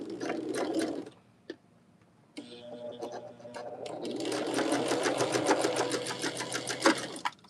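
A sewing machine stitches a quarter-inch seam on a quilt block, with a short burst of rapid needle chatter, a pause, then a longer steady run of close, busy mechanical clatter.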